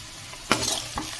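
Onions frying in a pan with a little salt, a low steady sizzle with a sharp scrape or stir at mid-point and another softer one near the end, no voices.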